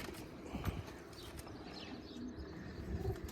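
Pigeons coo faintly on a rooftop, with soft, low calls over a quiet outdoor background and a few light knocks.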